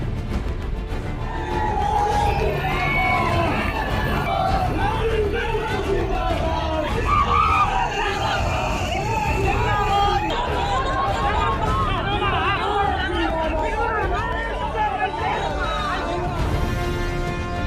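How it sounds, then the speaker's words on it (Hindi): A large political rally crowd in Bihar, gathered for Lalu, fills the air with continuous loud hubbub, cheers and scattered yells, a dense roar of many voices sustained throughout. "लालू की आवाज पर भारी भीड़ का शोर।"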